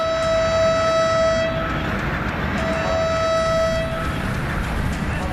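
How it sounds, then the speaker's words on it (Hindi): Heritage rail motor car running on the Kalka-Shimla track, its horn sounding a long sustained tone twice over the steady rumble of the moving railcar. "कालका शिमला ट्रैक पर रेल मोटर कार।"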